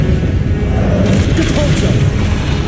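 An Expelliarmus spell cast in Hogwarts Legacy comes as a loud, booming magical blast within continuous, dense combat effects, close and forceful throughout.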